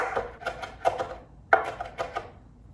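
Fresh cilantro coarsely chopped into large pieces on a cutting board: about half a dozen crisp, separate knife taps in an uneven rhythm, close and fairly quiet, with no talking.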